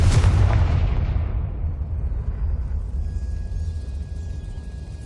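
Confringo blasting curse going off in Hogwarts Legacy: one loud, deep explosion at the start that rolls into a long, fading low rumble, with a faint steady tone lingering behind it.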